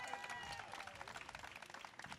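Audience applause at Soha Ali Khan's book launch for The Perils of Being Moderately Famous: a crowd clapping steadily, dense and sustained, moderately distant in a hall.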